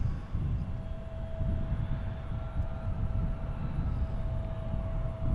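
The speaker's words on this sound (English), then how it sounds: "Endeavor's got to take off now" An Endeavor CRJ 900 jet takes off from an airport runway, a distant, steady low roar of jet engines with some wind rumble and no voices.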